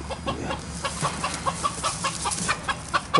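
A chicken at O'Keefe Ranch clucks rapidly while a cat chases it, giving a busy run of short, close, agitated clucks over a noisy outdoor background.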